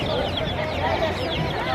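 Ducks and chickens at the Monday poultry market in Basyoun, Egypt, cluck and squawk steadily amid constant crowd chatter and voices.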